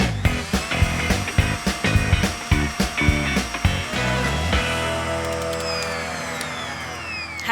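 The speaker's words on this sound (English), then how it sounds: "I'm going to speed this up and give it a good whisk." An electric mixer whisks chocolate macaron mixture, first in a series of rhythmic pulsing bursts and then speeding up into a steady, loud whirring drone.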